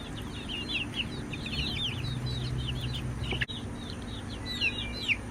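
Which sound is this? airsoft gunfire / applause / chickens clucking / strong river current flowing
chickens clucking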